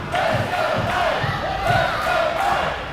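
A wrestling crowd in Albany chants and shouts during a match, rhythmic repeated crowd calls with stomping or clapping beats, loud and close, filling the whole short stretch.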